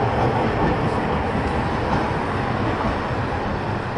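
A streetcar rumbles past nearby near Horohira Bridge and Nakajima Park, with a steady, loud rail roar and faint clacking of wheels throughout.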